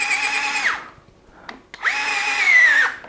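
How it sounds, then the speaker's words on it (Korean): Cordless power driver whirring up and then down in two short bursts as it tightens screws on a Ninebot Max G2 electric scooter, close and loud, with a brief tap between runs and no voices. "그래서 나사를 한번 조여 보겠습니다"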